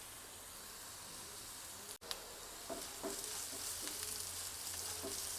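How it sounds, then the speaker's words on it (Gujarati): Green chilies sautéing in oil in a pan, a faint steady sizzle with a brief dropout and a few soft stirring clicks toward the end. "તો મરચાં તેલ સાથે સરસ સંતળાઈ ગયા છે।"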